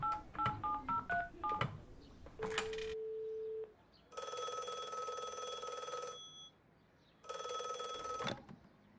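A telephone number is dialed with a quick run of distinct keypad tones, then a steady dial tone is followed by two long electronic ringback rings separated by a pause, loud and close with no speech.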